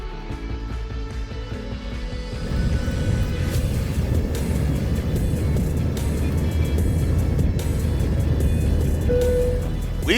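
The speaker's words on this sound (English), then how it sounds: "let's get on board this aircraft and take off." A passenger aircraft takes off on a connecting flight out of Atlanta: a quieter cabin hum gives way to a steady, loud engine roar and rumble as the takeoff run begins, with no one speaking.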